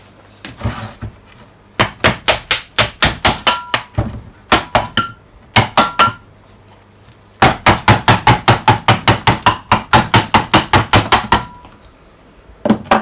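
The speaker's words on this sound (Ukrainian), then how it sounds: "Для того я взяв такий гострий молоточок. Зараз його вдарю два рази" Rapid series of sharp metallic blows from a pointed hammer striking a magneto generator motor cover ring out in bursts, dozens of quick clanging strikes separated by brief pauses, close and loud.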